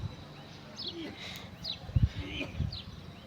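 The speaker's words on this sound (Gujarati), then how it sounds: "જો કેટલા કબૂતર આવી ગયા," Pigeons cooing outdoors near a farm field, a few soft low coos rising through light ambient noise with faint chirps from other birds.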